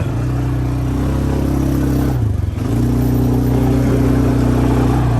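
Four-wheeler ATV engine running steadily during a ride, a loud low droning hum with a brief dip in the middle before the engine picks back up.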